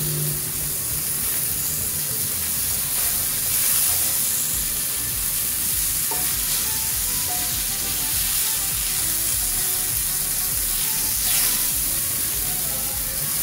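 Mushrooms and onions sizzle in a pan of steak sauce in a home kitchen, giving a steady, close, even hiss and crackle that lasts throughout with no talking.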